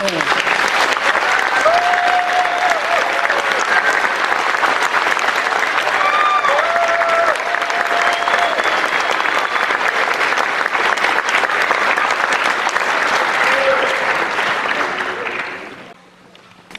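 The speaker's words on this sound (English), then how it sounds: "Give them a round of applause." Loud, steady audience applause at a pharmacy school white coat ceremony, with scattered whoops and cheers over the clapping before it fades out near the end.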